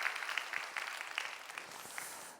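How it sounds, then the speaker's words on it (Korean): A church congregation claps together in a steady, fairly quiet burst of applause during a sermon. The clapping fades at the end. "여러분 크게 하나님 앞에 박수 한번 했으면 좋겠네요"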